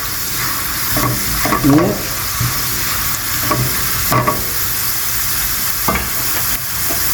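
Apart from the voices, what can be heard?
pine nuts and onion frying in a pan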